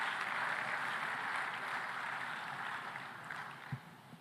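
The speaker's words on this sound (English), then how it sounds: "give a big round of applause to the young people in the room" Audience applause fills a conference hall at a food systems forum in Tanzania, a steady, even wash of clapping from a large crowd that holds for several seconds and then slowly tapers.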